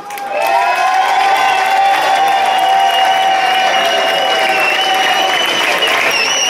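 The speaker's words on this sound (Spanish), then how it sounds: "a ver, palmas para los espiazaos" A festival crowd at the Fonz fiestas applauds the Espiazaos team with sustained, loud clapping that starts after a brief pause and holds steady, with cheers and voices mixed in.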